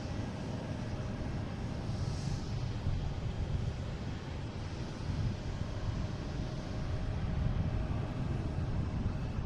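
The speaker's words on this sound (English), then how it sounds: "next taking off is a JetBlue heading to JFK, an A320" A JetBlue Airbus A320 taking off from Boston Logan International Airport, a broad steady jet-engine roar at a distance, with wind rushing across the microphone.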